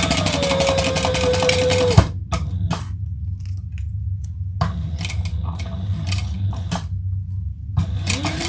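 A sewing machine bastes fabric in fast bursts of stitching. Each burst is separated by short pauses with soft clicks and handling noises, and the machine sits close and clear.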